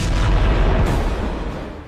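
Blasts from the Iran-Israel war sound as a deep, heavy rumbling boom that rolls on and slowly fades over about two seconds, with no talking.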